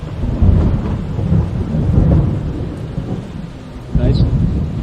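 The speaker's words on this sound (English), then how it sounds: "the thunder is getting louder" Rolling thunder from an approaching storm in the Peruvian mountains, deep rumbles swelling and fading over several seconds, with a renewed louder roll near the end and faint rain hiss underneath.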